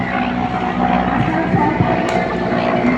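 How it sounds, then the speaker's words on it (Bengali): A helicopter passes overhead during a school and college cricket match, heard as a continuous low droning rumble that holds steady across the few seconds. "উপর থেকে হেলিকপ্টার যাচ্ছে।"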